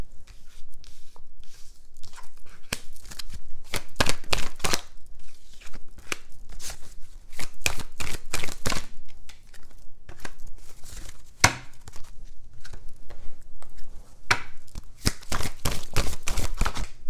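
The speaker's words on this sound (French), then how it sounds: "Ok, bon, je tire toutes les cartes." Playing cards are shuffled and drawn one after another in a steady stream of close, papery flicks and slaps that carry on throughout, with no talking.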